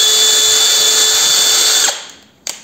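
A drill spins a mini wire brush against an edge with a loud, steady high whine, then spins down and stops, followed by one short burst as the trigger is tapped again.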